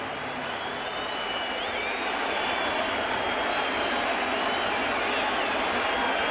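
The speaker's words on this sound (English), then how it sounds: "Alex Rodriguez, just introduced to the stadium crowd, gets a warm hand" Stadium crowd at a 2015 Blue Jays opening day giving Alex Rodriguez a warm hand, a sustained roar of applause and cheering with whistles rising over the broad wash of clapping.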